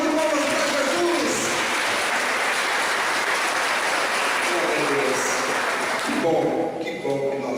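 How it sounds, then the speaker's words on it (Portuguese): An audience at a church-style lecture event on breast cancer awareness claps in a broad, continuous round that carries on for several seconds, then thins near the end as a voice begins to speak. "Dá uma salva de palmas para Jesus."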